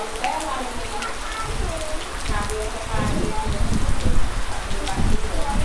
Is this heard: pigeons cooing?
no